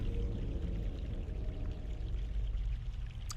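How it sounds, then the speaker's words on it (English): Steady flowing water from a stream in the adventure game The Longest Journey, a continuous broadband rush that holds evenly at moderate level throughout, with no talk. "Hear water over here."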